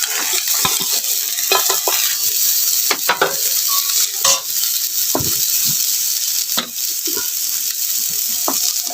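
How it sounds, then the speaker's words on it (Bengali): Chopped potatoes fry in a hot wok, giving a steady, close sizzle broken by scraping stirs and occasional clinks of a utensil against the metal, with no voices. "আমি এবার কুচনো আলুটা ভেজে নেব।"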